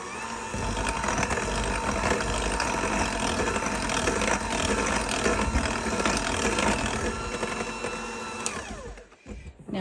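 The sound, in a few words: beating carrot cake batter with sugar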